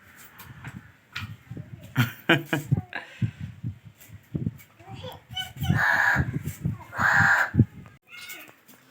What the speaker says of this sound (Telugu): కాకి చూడు ఇంటి వరండాలో ఉన్నది